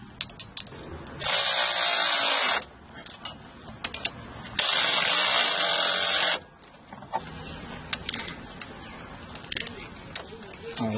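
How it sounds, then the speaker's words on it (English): A rotary ratchet wrench whirs in two sustained bursts while working on the alternator of a VW Passat 3.6, with softer clicks and handling noises between them, close and fairly quiet. "Now, this is a rotary wrench, which helps a lot."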